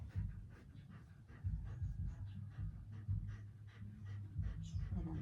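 A golden retriever pants steadily and quickly close by, while a person talks softly over it.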